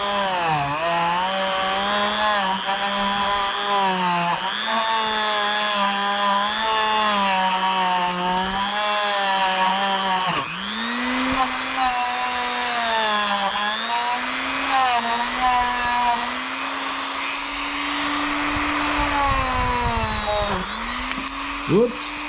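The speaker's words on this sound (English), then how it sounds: "I'm going to kind of go over it with Dremel here" Dremel rotary tool grinding over a motorcycle gas tank, a high whining buzz that dips and rises in pitch as the bit bears down and lifts, running almost continuously up close for over twenty seconds.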